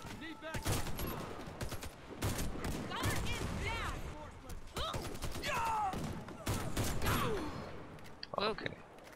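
Assault rifle bursts and other gunfire in the online shooter Warface, rattling in rapid volleys amid game effects and clanking, with people talking over much of it.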